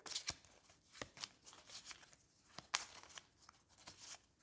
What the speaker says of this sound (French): Je mélange mon deck.